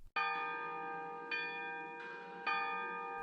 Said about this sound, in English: The church bells began to ring, even though the ropes hung still.